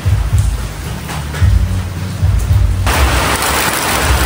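Heavy rain pours down steadily at a street-side barbecue stall grilling chicken feet, isaw, pork and chicken, a loud dense wash that swells louder partway through with no voices.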